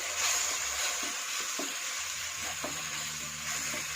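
Chicken curry with salt and black pepper being mixed in a pan, giving a steady close sizzle with scattered soft scraping and clinking from the stirring throughout.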